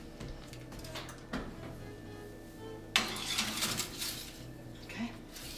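Asparagus set into a metal pan to cook, with clattering pan and utensil knocks, one sharper clank midway, over a steady hum and faint kitchen background.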